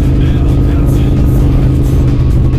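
A Piper PA28 light aircraft accelerates down the runway, its engine a loud, steady, close droning roar that holds throughout with no voices.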